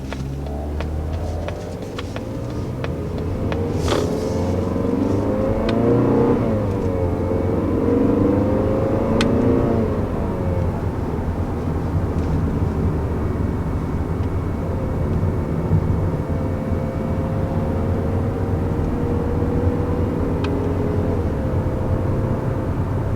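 Engine of a 2019 Mazda 3 sedan heard from the cabin while driving, a steady low drone that climbs and falls as the revs rise and settle, with faint road rumble and no talking.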